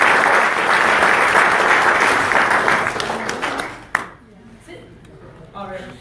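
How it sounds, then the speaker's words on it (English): Loud applause from a crowd for a police dog and officer, dense clapping that fades out around four seconds, followed by quieter room noise and faint voices. "Let's give him a round of applause"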